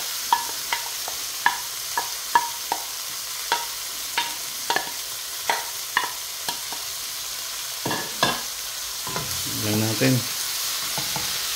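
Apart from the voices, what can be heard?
bitter gourd (ampalaya) stir-frying with tomatoes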